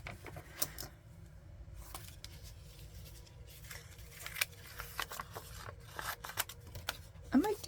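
Scissors snip through a stained needlework journal piece, giving a series of small crisp cuts and rustles of fabric and paper, close and quiet under a voice.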